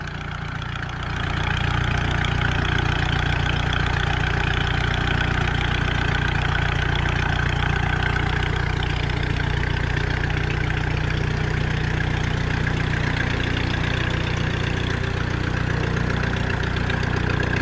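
A Ford Model A engine mounted in a 1934 Pietenpol Aircamper runs at a steady idle, a close, continuous low rumble that holds evenly throughout with no voices over it.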